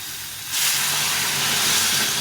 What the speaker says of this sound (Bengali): এখন আমি এখানে জল ফুটিয়ে রেখেছিলাম এই জলটা দিয়ে দেবো